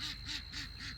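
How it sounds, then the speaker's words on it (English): Ducks quacking on a small farm, four loud rhythmic quacks in quick succession, close by and alone over faint background. "my ducks have a lot to say."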